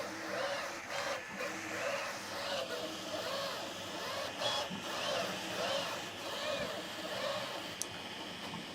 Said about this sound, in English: So what I'm printing now is just the standard rocket engine.